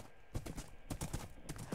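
Horse hooves clip-clopping in Minecraft 1.6.1 while riding, a steady run of hollow knocks at close range with no talk over them.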